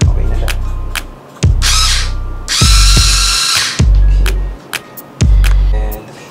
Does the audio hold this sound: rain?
no